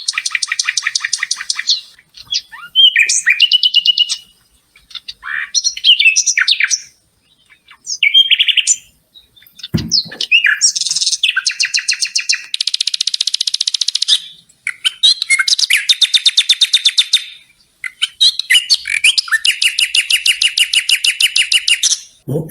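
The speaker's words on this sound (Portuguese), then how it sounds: "Podemos até ver aqui o rouxinol, não pela cor dele, obviamente, mas pelo canto." Common nightingale singing alone, a long run of varied phrases: rapid repeated chirps, trills and buzzy rattles separated by short pauses, close and clear throughout.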